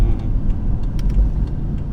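A BMW M6 Gran Coupe takes a curve at speed, its engine a steady low rumble with road and tyre noise, moderately loud and continuous with no talking.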